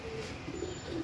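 A pair of pigeons coos softly and repeatedly at close range, low throaty calls rising over a steady background hiss, with no talking.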